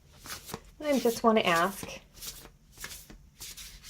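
Oversized Oculi Occultati tarot cards being shuffled with difficulty, a soft papery riffling under close conversational speech.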